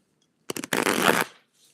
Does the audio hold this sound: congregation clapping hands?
no